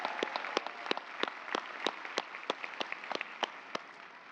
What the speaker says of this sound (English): Let's give another round of applause for our difference makers.